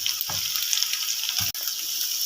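Mutton goes into onions frying in oil for a white mutton pulao: a steady, bright sizzle runs throughout, broken by two soft thuds as the meat lands in the pan.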